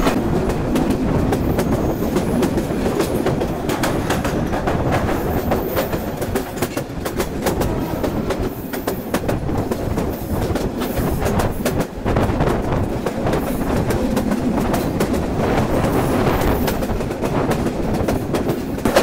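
Korotoa Express passenger train running on rails approaching a station, heard from the open doorway: a loud, steady rumble with continuous rapid clickety-clack of wheels over rail joints and wind noise throughout.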